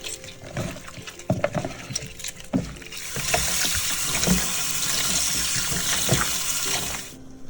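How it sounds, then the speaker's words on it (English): A raw chicken is rinsed with lime in a kitchen sink: handling and splashing sounds at first, then tap water runs in a steady, close, loud gush for several seconds before stopping. "Next, clean the meat with lime and wash it off."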